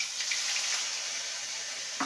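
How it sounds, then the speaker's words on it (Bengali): Whole cumin seeds and ginger paste sizzle in hot oil as a tempering, a steady bright crackling hiss close up, with a brief stir or scrape near the end. "ফোড়নে দেব হাফ টিস্পুন গোটা জিরে, দিয়ে দেবো আদা বাটা। ফোড়নটা ভাজা হয়ে গেছে"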